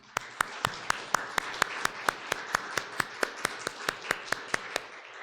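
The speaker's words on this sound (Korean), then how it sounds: "우리 마음을 다해 응원과 축복의 박수 해드립시다" A church congregation at a Sunday service claps in steady unison, sharp even beats about four per second, moderately loud and continuing without a break.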